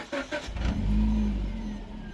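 A Suzuki SX4 car engine starts by remote and settles into a low, steady idle, preceded by a few faint clicks, heard from close by at moderate volume.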